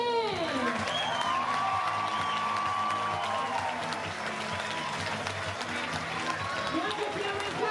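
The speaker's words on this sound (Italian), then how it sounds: "Facciamo un bel applauso per Pélissier!" A crowd at a football club's centenary party applauds and cheers loudly and continuously, while an announcer's amplified voice rings out over the clapping and a few whoops rise from the gathering.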